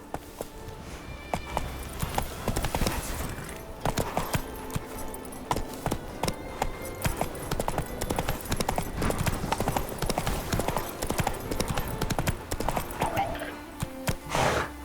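Roach the horse gallops in The Witcher 3 with quick, continuous hoofbeats and faint tack jingles, loud and steady throughout.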